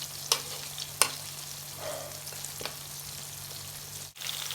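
Tilapia fish frying in oil in a pan for a Bengali recipe, a soft steady sizzle close by, broken by a few sharp clicks and clatters of utensils early on, with no talking.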